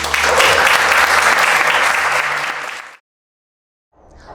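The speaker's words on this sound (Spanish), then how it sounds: "¿le puedes dar un aplauso al Señor?" An audience gives a burst of dense applause for about three seconds, then it stops abruptly into silence. Only a faint sound returns at the very end.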